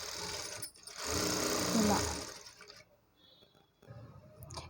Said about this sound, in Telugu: ఓన్లీ మెయిన్ మెయిన్ ఫ్యాబ్రిక్ని మాత్రమే ఇలా ఒక స్టిచ్ వేసేయాలండి